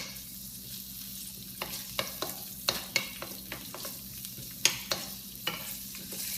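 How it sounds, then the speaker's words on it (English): Garlic sizzling in grapeseed oil in an Amway iCook seven-layer pan, a soft steady fry under irregular sharp clinks and scrapes of a utensil stirring against the pan. "you could kind of hear it sizzling."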